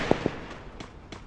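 Enemy gunfire in the video game Free Fire: two sharp close shots in quick succession, followed by two fainter, more distant reports spaced apart.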